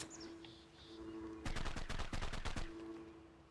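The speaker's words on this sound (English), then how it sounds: "That is a minigun turret." A minigun turret in the video game ARK fires one rapid, dense burst lasting about a second. A low steady hum runs before and after it, and no one speaks.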